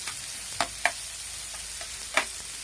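Finely chopped onions fry in oil with a faint, even sizzle, punctuated by a few sharp spatula clicks and scrapes against the pan.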